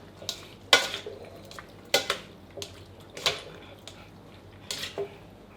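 Cooked macaroni being tossed with olive oil in a kitchen, heard as sharp intermittent clinks and scrapes of a utensil against a dish, spaced about a second apart over a quiet background.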